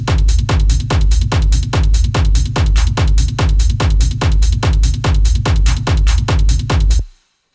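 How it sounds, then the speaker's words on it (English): Hardgroove techno loop with a pounding low-end kick and driving hi-hats, steady and loud in a tight repeating rhythm for about seven seconds before cutting off abruptly into silence. "Together with the low end and the hi-hats, it sounds like this."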